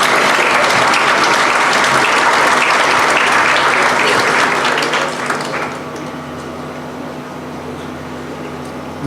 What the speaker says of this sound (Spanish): Recibamos con un fuerte aplauso al profesor Jordi Ferrer